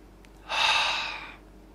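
A single deep breath is drawn in through the nose and mouth during a beginner's breathing meditation, a close, soft inhale rising sharply then fading over about a second in a quiet room.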